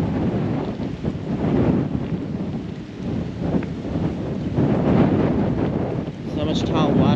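Steady wind buffeting a microphone outdoors beside a reservoir lake, a low rumbling roar that swells and eases throughout, with occasional faint voices underneath.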